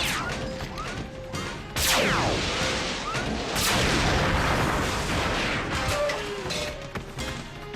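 Animated science-fiction battle gunfire fills the scene with dense, loud blasts and crashing impacts, punctuated by sweeping zips of energy fire across continuous explosive noise.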